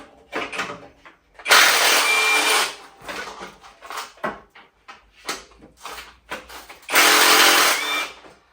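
A power driver with a quarter-inch drive runs in two loud whirring bursts, close up, separated by shorter clicks and handling noises in a workshop during a 1981 Honda Goldwing GL1100 fuel injection conversion.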